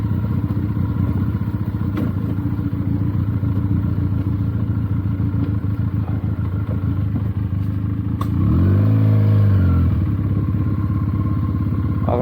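A Benelli TnT 300 motorcycle is ridden off-road on a cold morning over a slippery trail. The engine drones close and loud throughout with a rumbling, clattering idle-like pulse, and a rev rises briefly toward the end.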